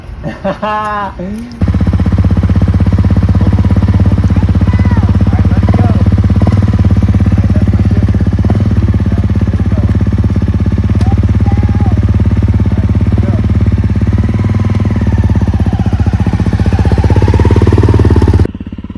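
A Honda CRF250L dirt bike engine idles and revs steadily for a long stretch, loud and close, with a brief rumble and voices at the start.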